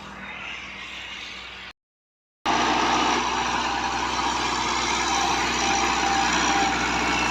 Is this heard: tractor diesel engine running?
yes